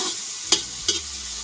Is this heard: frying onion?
yes